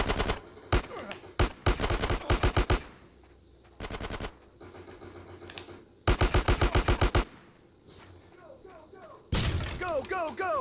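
Video game gunfire in GTA San Andreas: several loud bursts of rapid automatic shots in quick clusters, separated by short pauses, with someone talking between and over some of the volleys.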